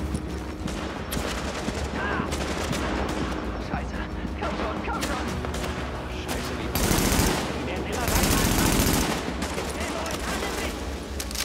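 Bursts of automatic gunfire from the video game The Division, a dense stream of shots through the whole stretch with heavier volleys near the end, while someone talks over the shooting.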